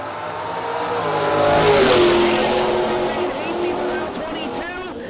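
A drag racing Mustang launches down the right-hand lane of the racetrack at a no-box event, its engine roaring and swelling loudly over a couple of seconds, with tire noise and a commentator talking over it.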